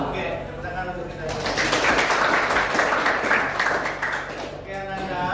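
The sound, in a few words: class applause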